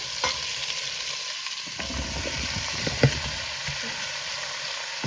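Meat and carrots fry in a hot pan, giving a continuous sizzle with a few brief stirring clanks and no talking.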